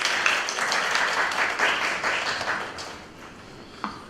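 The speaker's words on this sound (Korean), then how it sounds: "큰 박수로 모셔주시기 바랍니다." Audience applause at a conference on women in IT in the AI era greets a speaker from a software policy institute: a steady, fairly loud wash of clapping that thins out toward the end, with a single sharp tap near the close.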